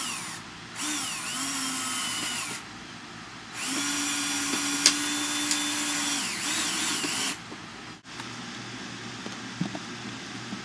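Power drill driving screws into a wooden painting canvas frame, two distinct whirring runs of a few seconds each with a rising and falling motor pitch, close and loud, followed by quieter handling noises.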